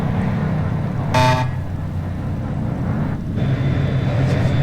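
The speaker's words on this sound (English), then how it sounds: "Did you know the air horn on this is powered by Poncho's Buffet?" A truck air horn in the space game Star Trucker gives one short, loud, brassy blast over a steady engine hum, followed later by a fainter, briefer toot.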